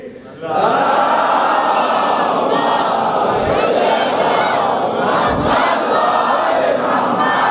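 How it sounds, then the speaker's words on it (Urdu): A large Muharram majlis gathering loudly chanting salawat in unison, a sustained roaring crowd voice that swells after a brief start and stays powerful and dense throughout. "نعرے صلوات بآواز بلند پڑھے"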